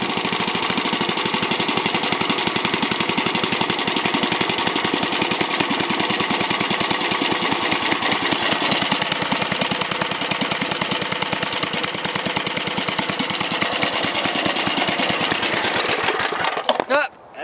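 A 1968 Briggs and Stratton 7hp 275cc horizontal splash-lubed engine runs steadily at low idle speed, a loud continuous putter with rapid regular firing pulses, sputtering and dying out at the very end.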